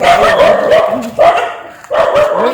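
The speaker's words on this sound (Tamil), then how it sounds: "நாய் தான் துரத்திட்டு வருது." A dog barks while chasing, several loud close barks in quick succession with short whining yips between them, no talk.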